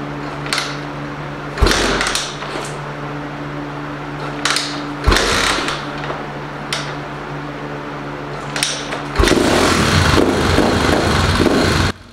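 A Honda XR250R motorcycle is kick-started and then idles on its stock carburetor jetting, with repeated sharp kicks and mechanical clanks breaking a low running hum before a louder, steady burst near the end.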